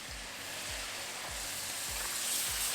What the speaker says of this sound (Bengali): সমস্ত সবজিগুলো ভাজা ভাজা হয়ে গেছে।